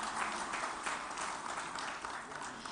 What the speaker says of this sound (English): once a big round of applause for him